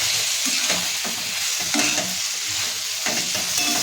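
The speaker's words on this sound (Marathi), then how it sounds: "आता ह्याच्यामध्ये आपण कट करून घेतलेली माकली टाकून घ्यायची आणि छान मसाल्यामध्ये परतून घ्यायचं." Cut pieces of dry fish sauté in masala in a pan, giving a close, continuous sizzle with soft scraping stirs. The frying stays even and loud throughout, and no one talks.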